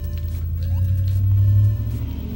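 A car rumbles past outside, its low engine drone swelling then fading, steady and fairly loud with no talking.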